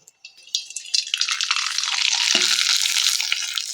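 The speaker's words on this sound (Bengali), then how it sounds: "তেল হয়ে গেছে পাঁপড়গুলো এক এক করে দিয়ে দেবো" Sun-dried tomato papad dropped into hot oil in a wok begins to fry. A few soft taps come first, then a bubbling sizzle swells and holds steady and close.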